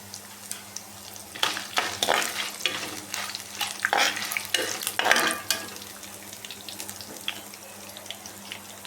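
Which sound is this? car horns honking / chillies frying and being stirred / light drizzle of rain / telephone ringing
chillies frying and being stirred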